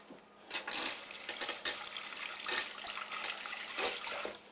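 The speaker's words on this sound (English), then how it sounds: "Wash it off before it starts to burn." Tap water runs steadily into a sink as raw soap is rinsed off the back of a hand during soap making, a close, continuous splashing rush with uneven surges.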